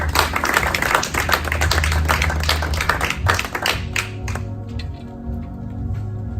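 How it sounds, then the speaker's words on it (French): A church congregation applauding: dense, loud, sustained clapping from many hands in a worship hall, gradually thinning out and fading near the end. "tu acclames d'abord très fort pour le Seigneur"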